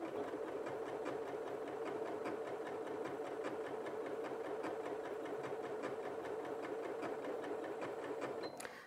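A Janome 8200QCP sewing machine runs steadily, sewing a wavy stitch with its motor-driven walking foot, giving a continuous, even mechanical hum with fine rapid needle ticks throughout, close and alone until it winds down at the end.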